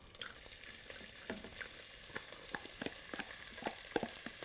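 Onions frying in a spoonful of ghee for a quail kabsa, a steady hiss of sizzling broken by small crackles and stirring scrapes, heard close with no talk.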